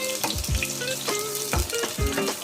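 Onions sizzling in hot oil for a pork and tofu dish, a dense close crackle with recurring low thumps and scrapes as the pan is worked.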